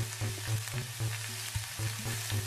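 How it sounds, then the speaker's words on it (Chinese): Chopped egg fries in a little hot oil in a pan, giving a steady close sizzle with soft crackles and occasional stirring scrapes, no voices. "在锅中加入少许油，煮热后把切好的鸡蛋放入锅中煎好"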